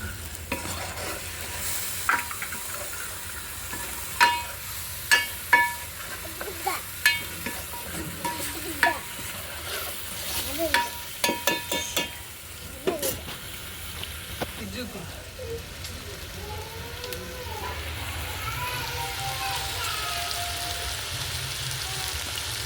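Tomato paste fries with onions in a pan over a wood-fired stove. A spatula scrapes and clacks repeatedly through the first half, then a steady sizzle takes over, with a brief voice near the end.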